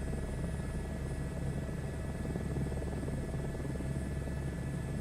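A steady, even helicopter rotor and engine drone from a flight simulator game, constant and fairly loud throughout with no talking.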